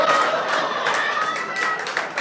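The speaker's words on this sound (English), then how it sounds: "it lands on an applause break" Audience applause and clapping at a comedy show, a brief, moderately loud burst of hand claps mixed with crowd noise, with a voice partly over it.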